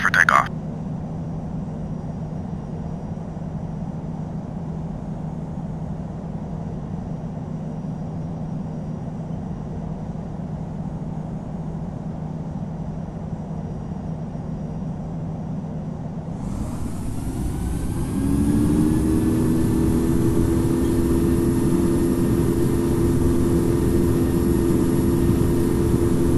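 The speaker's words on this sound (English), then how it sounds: "Flight attendants, prepare for takeoff." Inside an airliner departing Vancouver, a steady low cabin hum and engine drone give way partway through to a loud engine spool-up that builds into a sustained, rising takeoff roar.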